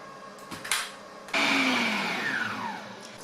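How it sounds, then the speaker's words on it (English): An electric mixer whisks four egg whites toward stiff peaks in a bowl; after a brief clatter, the motor kicks in with a loud, steady whir whose pitch slowly sinks as it runs. "what I'm going to do is I'm going to mix those until they're in fairly stiff peaks"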